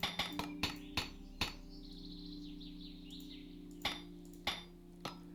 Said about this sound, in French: Petit coup de marteau.